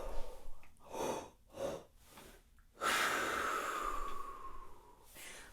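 A horn player's three-part breath, a low and middle inhale topped with a small extra sip, comes as several soft close airy breaths followed by a longer, louder rushing exhale, heard alone with no talk.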